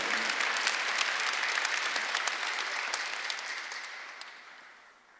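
Steady applause from a large church congregation during a Sunday service, sustained dense clapping that gradually fades out near the end, with no talking.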